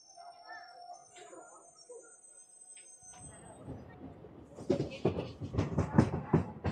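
A DEMU diesel train pulls away from Nandaluru station on the Renigunta–Kadapa line, quiet at first, then a rising rumble and rattling clatter that grows loud, with faint voices underneath.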